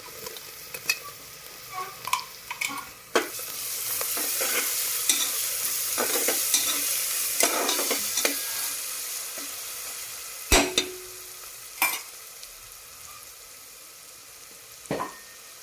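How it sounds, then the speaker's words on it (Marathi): Green chili paste frying in hot oil with asafoetida, a dense bright sizzle filling the pan throughout, punctuated by occasional sharp clinks and scrapes of a spoon, close by with no talking. "आता बघा हे मी मिरचीचं वाटण करलेलं आहे ते टाकून घेते"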